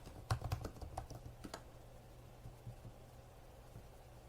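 Close keystrokes on a computer keyboard, a quick burst of clacking at first that thins to a few scattered taps, with no voices.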